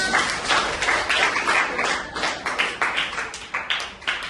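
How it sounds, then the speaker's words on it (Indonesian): A crowd clapping steadily, dense overlapping claps at even loudness throughout, with no talking. "Oke, tepuk tangan untuk teman-teman."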